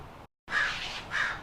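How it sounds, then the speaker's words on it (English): A crow caws twice, loud and close: a harsh call that follows a brief moment of silence, then a second caw about half a second later. "Shut up, crow!"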